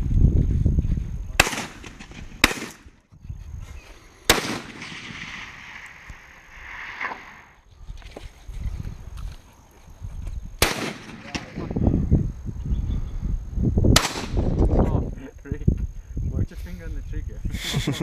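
Gunshots fired outdoors, several sharp loud cracks at irregular intervals, some followed by a brief echoing tail, with people talking between and over the shots.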